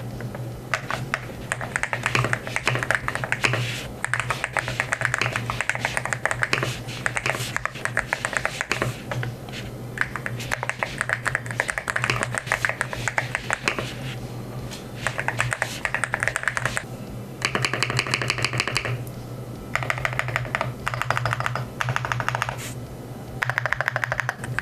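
Brisk typing on an EverGlide SU75 Pro magnetic keyboard with EverGlide Siren switches, dense clacking keystrokes running steadily and close, with a few short pauses and bursts of faster rattling toward the end, no voice.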